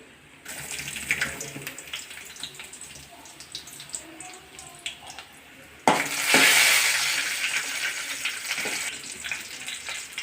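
Sliced garlic frying in a pan for mango kulambu: a soft sizzle with light clinks at first, then a sudden louder hiss and bubbling surge as more goes into the hot oil, close by.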